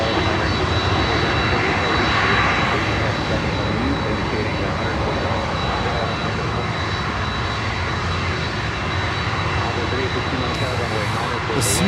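A USAF C-17 military transport on approach to Miami rumbles with a continuous loud jet engine roar and a faint high whine, steady for the whole stretch, with a voice apparently talking over it.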